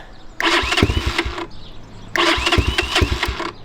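A brand-new motorcycle engine is started twice, each time catching with a loud close rev that runs for about a second before dropping off, with a short quiet gap between the two attempts.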